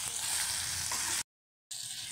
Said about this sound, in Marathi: थोडंसं परतवून घेतलं मसाले घातल्यानंतर